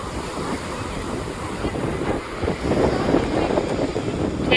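Sea waves wash onto a beach with steady broadband surf roar, swelling louder in the second half, mixed with gusty wind noise on the microphone; no clear talk.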